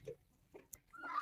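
Brown hens cluck softly in a farm coop, a few short, quiet clucks spread across a brief moment with faint background rustle.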